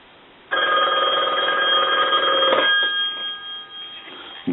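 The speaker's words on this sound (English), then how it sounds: "we're going to go ahead and ring the telephone" A red Western Electric 2500 desk telephone bell rings loudly and close for about two seconds, then decays into a fading metallic shimmer, with no voices.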